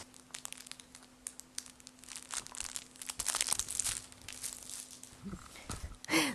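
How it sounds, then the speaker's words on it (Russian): A dog chews and gnaws a crunchy, crinkly soft toy, making steady close-up crinkling and crackling that grows busier midway, with no one talking. "А он взял другую игрушку, которая хрустит."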